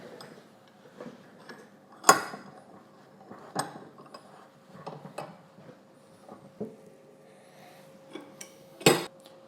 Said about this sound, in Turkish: şu mengeneyle bunu iyice ezeceğiz